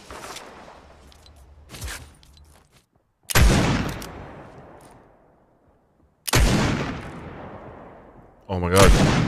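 Scoped revolver fire in a video game: three loud, isolated shots spaced a few seconds apart, each with a sharp crack and a long decaying tail, plus a fourth shot at the very end, with faint game noise between.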